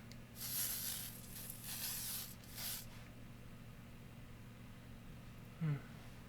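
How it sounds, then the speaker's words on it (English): Makeup setting spray misted from a pump bottle: three quick hissing spritzes in a row, close and soft, followed by quiet room tone. "that's the setting spray"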